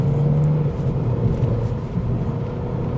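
Engine of a 2017 VW Polo Blue GT while driving, a low steady rumbling drone from inside the car with a brief higher hum early on, continuous and fairly loud.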